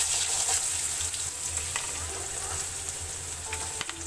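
Carrots sizzling in hot oil with cumin while making rava upma, a steady, fairly loud hiss with occasional light clicks of the pan and spoon.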